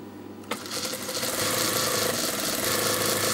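A sewing machine top stitches a two-layer garment neck seam, starting with a sharp click and then running in a loud, continuous, fast mechanical whir close by.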